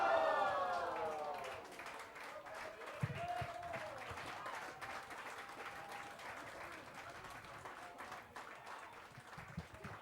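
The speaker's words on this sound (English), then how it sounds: "crowd got super excited over that one" A crowd at a men's over-55 field hockey World Cup play-off in Cape Town cheers and applauds after a diving play, a loud, sustained wash of clapping and cheers that slowly eases but carries on throughout.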